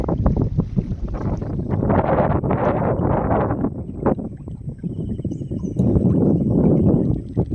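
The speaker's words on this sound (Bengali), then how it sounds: "হাওয়া কমছে না।" Strong wind buffets the microphone on a river beside a fishing boat, a loud, steady roaring rush with gusty swells and no voice.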